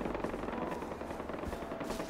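Continuous rapid automatic gunfire in the game Far Cry 4, a dense rattling burst that fills the whole moment at moderate distance with no talk.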